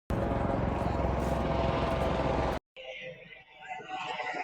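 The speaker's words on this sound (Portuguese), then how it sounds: "Helicópteros. Helicóptero," A helicopter flies overhead with a loud, steady rotor and engine roar that fills the first two and a half seconds, then cuts off abruptly into quieter, fainter background noise.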